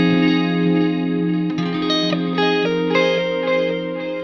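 An electric guitar played through a delay pedal set to slow, deep modulation, sustained chords and single notes ringing with gently wavering pitch and echoing repeats, loud and close with no voices.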